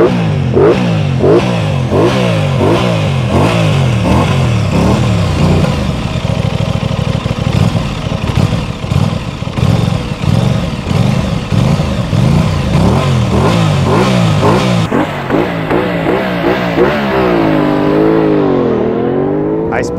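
A 2022 Aprilia Tuono 660 Factory motorcycle revs hard and loud at close range, its engine climbing and falling in repeated sharp sweeps before settling to a lower rumble.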